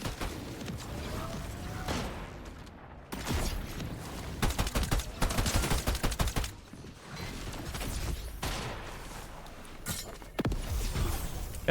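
Gunfire from a Fortnite Zero Build match plays in quick bursts and rapid volleys, separated by short pauses, with sharp impacts and whooshes mixed into a fairly quiet game soundtrack.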